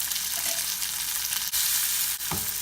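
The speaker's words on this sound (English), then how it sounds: "Fry the onions till they are lightly golden brown." Onions fry in hot oil with turmeric, asafoetida and salt, a steady loud sizzle with faint stirring scrapes throughout and no talking.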